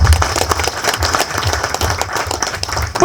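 An audience at a speech about Dr. B. R. Ambedkar breaks into loud, dense applause, many hands clapping steadily close by for the whole stretch.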